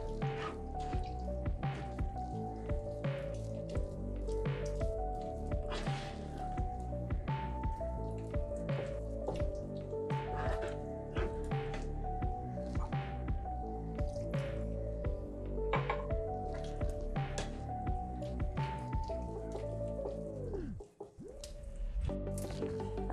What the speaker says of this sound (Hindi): अब इसमें थोड़ा थोड़ा पानी डाल के वापस से छानेंगे ताकि टमाटर का रस अच्छी तरह निकल जाए पूरा।